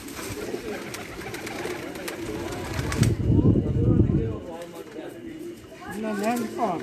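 Pigeons coo softly and repeatedly at a loft, with someone talking over and between their calls throughout.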